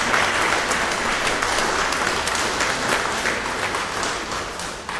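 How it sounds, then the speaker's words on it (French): An audience applauds after a final pitch at a health hackathon, a steady, dense wash of many hands clapping that carries evenly for several seconds and tapers slightly at the end. "Vous pouvez les applaudir bien fort."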